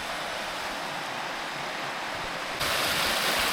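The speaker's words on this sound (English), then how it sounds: "Look at these waterfalls, rapids." Waterfalls and rapids along England's coast to coast path roar as a steady broadband rush of tumbling water, close and loud, growing stronger in the final second.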